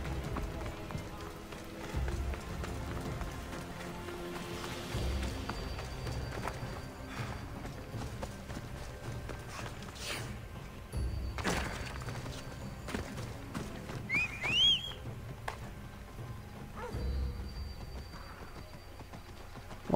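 Horse hooves gallop in the video game Assassin's Creed Odyssey, a fast, steady clip-clop run heard at moderate distance under game ambience, with a brief whinny-like cry partway through.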